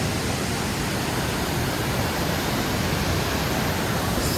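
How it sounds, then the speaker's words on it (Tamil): Viripara waterfalls near Munnar, Kerala, pour in a dense, steady, broadband roar that fills the whole moment at close range without a break. "இங்கே பாருங்க சரியான வாட்டர் ஃபால்ஸு"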